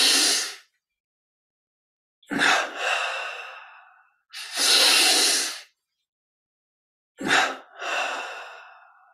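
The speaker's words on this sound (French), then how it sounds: "Et expire, détente totale." Slow, deep breaths during a guided relaxation meditation: a short exhale, then three long, airy breaths drawn in and sighed out, close to the microphone, separated by silent pauses.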